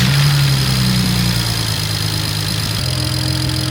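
A BMW engine fires up and settles into a steady, loud idle with a low rumbling hum and some vibration, close by, with no talking.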